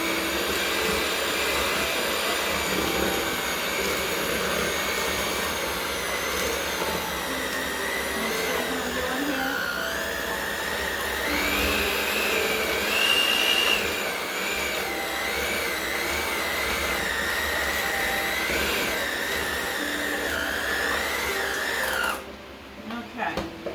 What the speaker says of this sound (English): I am going to put the mixer in here and mix this up prior to putting the bananas in